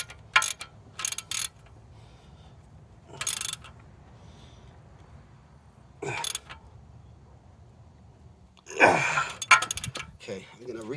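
A hand ratchet tightens the power steering belt on a Kia Spectra, giving several short bursts of rapid clicking separated by quiet pauses, close and moderately loud.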